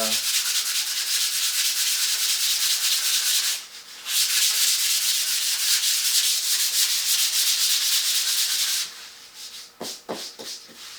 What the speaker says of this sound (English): I'm just going to go sand it down here